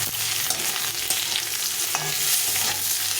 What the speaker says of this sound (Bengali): এখন আলু পটলটাকে দুটোকে একটু ভালো করে ভেজে নেব